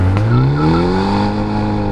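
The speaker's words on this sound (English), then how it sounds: "Clutch down, revs up." A 2024 Hyundai Elantra N revs hard with the clutch down, a loud, close engine note rising steadily in pitch as the revs climb, with a brief sharp transient at the start.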